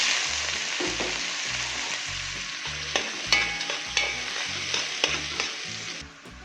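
Chopped onion frying in local ghee with garlic, paprika, cumin, pepper and coriander for a lentil dish, a constant close sizzle punctuated by repeated spoon scrapes and knocks against the pot, with no speech.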